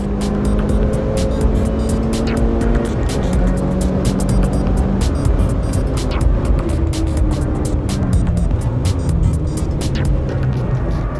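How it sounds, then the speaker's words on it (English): A Mitsubishi Evo Lancer on a race track, its engine roaring loud and close without a break, with the pitch climbing and falling as the driver works through the gears. "went for a ride in Brett's Evo Lancer"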